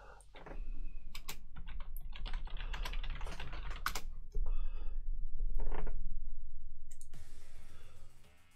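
Fast typing on a computer keyboard while waiting in an online game lobby, bursts of crisp key clicks close up that pause briefly and end in near-silence.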